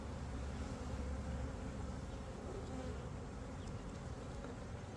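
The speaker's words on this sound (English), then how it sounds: "I don't want this hive to swarm either." Honeybees fill the air around an open hive during an inspection, producing a continuous dense buzzing drone, close and even, with no talking heard.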